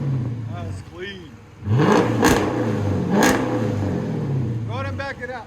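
A Dodge Charger R/T with a Hemi V8 revs loudly, two sharp throttle blips rising over a steady rumbling idle, with voices talking briefly before and after.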